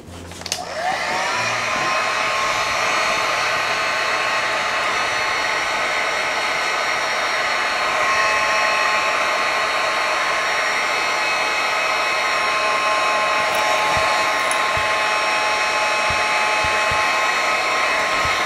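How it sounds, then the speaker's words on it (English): A heat gun drying a craft transfer, blowing with a steady loud whine and rushing airflow that holds unbroken throughout. "we're going to get the heat gun out and dry this a little bit"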